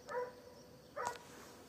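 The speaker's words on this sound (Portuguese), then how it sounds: "O que que tá latindo?" A dog barks twice, faint and distant, in an outdoor wooded area, with a short gap between the two barks and quiet background noise.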